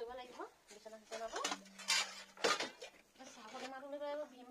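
Dishes, pots and pans clatter and clink during washing up at home, with a person talking over the clatter throughout.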